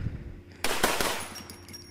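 Gunfire in the online zombie survival game Infestation The New Z, a quick burst of shots ringing out over steady background noise.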